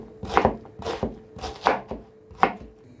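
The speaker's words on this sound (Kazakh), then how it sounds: "бізге осындай бір тал пияз керек. Осыны осылай турап аламыз" A knife finely chopping a single onion on a board, five or six crisp, evenly spaced cuts with brief pauses between them, close and clear with no talking.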